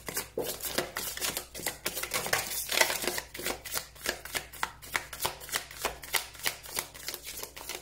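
Tarot cards shuffled and dropped onto a table in a steady run of crisp riffling snaps and soft slaps, close and fairly loud, with no talking.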